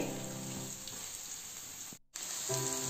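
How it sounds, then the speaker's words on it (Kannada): Onions frying in oil in a pan, giving a steady, close sizzle that runs almost without a break, dropping out for a moment before resuming, with no talk over it. "ಈರುಳ್ಳಿ ಒಂದು ಎರಡು ನಿಮಿಷ ಫ್ರೈ ಆಗಲಿ"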